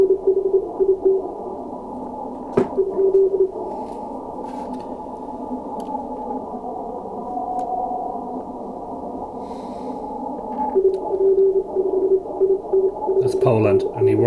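Morse code from amateur radio station SP5E on the 30-metre band, a thin keyed tone of dots and dashes riding on steady receiver hiss and static, clearer in the opening and closing seconds.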